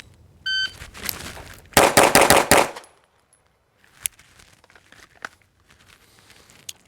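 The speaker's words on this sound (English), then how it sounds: "5 shots out of the gate with both hands." Handgun shots during a two-handed shooting drill: a timer beep, then five rapid, loud gunshots in a tight burst, followed by quieter clicks and handling noises.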